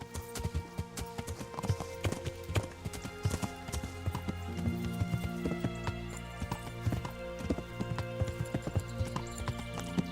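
Horse hooves clip-clop in a steady trotting rhythm in the medieval game Kingdom Come: Deliverance, fairly close and continuous under a layer of background music and ambience, with no talk.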